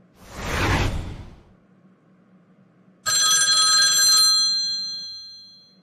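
A sharp whoosh opens, then after a quiet pause a telephone begins ringing with a bright, sustained electronic tone that holds for about a second before decaying, heard alone with no talk.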